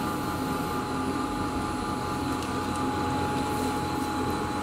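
A DJ-1A3 semi-automatic powder filling machine runs steadily, dosing 200-gram portions into food bottles, giving a continuous mechanical drone with a constant hum and faint higher whine throughout, no talking.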